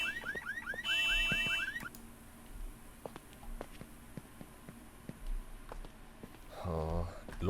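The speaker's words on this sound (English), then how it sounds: "I should switch off the alarm system as soon as possible before anyone else wakes up" Alarm system going off in a video game, a warbling electronic siren near the start and again at the end, with scattered footsteps and small clicks between the bursts.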